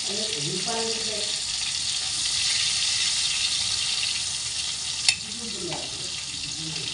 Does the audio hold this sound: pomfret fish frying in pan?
yes